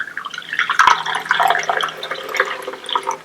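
Tea pouring from a small plastic-lidded teapot with an infuser basket, a close, light trickling and dripping stream with a brief clink near the start.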